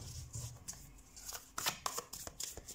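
Tarot cards shuffled by hand, close and quiet, a quick series of crisp riffling snaps and soft slaps in an irregular rhythm, with no talking.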